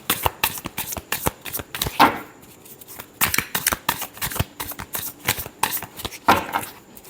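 Tarot cards are shuffled close by in quick riffling bursts with brief pauses between them, crisp and papery with no one talking.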